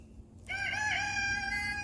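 A rooster crows once, a loud, drawn-out harmonic call that rises and holds for over a second.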